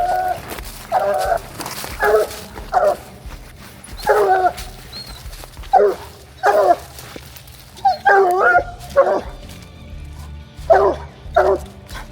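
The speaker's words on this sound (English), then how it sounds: "and as soon as I got him turned loose, Tony just started locating and treed up here" A hunting dog barks repeatedly at an animal treed up in the woods, loud rhythmic barks and yips in bursts with short gaps, close by, without any talking.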